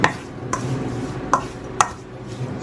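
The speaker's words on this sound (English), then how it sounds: "stir this up to get it all seasoned" Food being stirred with a utensil after a sprinkle of Italian seasoning, a few sharp scraping knocks against the pan spaced irregularly over a quiet kitchen background.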